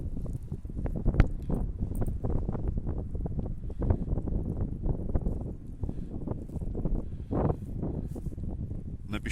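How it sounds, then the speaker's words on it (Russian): Wind buffets the microphone on an empty, cold sandy beach in Anapa in November, a continuous low rumbling roar with gusty surges and no voices. "усиливается ветер"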